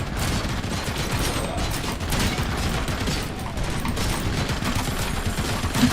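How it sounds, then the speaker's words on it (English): Dense, steady machine gun fire in the game RoboCop: Rogue City, rapid bursts running continuously for the whole stretch at close range with no pauses. "a machine gun"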